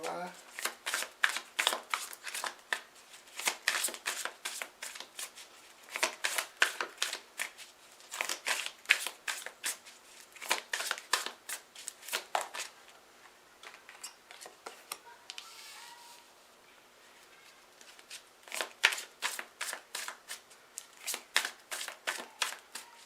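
Tarot cards being shuffled in quick rhythmic bursts of crisp riffling, with a near, clear sound that comes in repeated runs and pauses in a quieter stretch before resuming, while a voice speaks intermittently.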